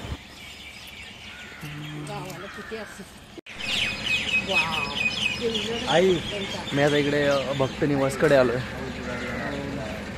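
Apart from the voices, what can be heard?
birds chirping and pigeons cooing in the morning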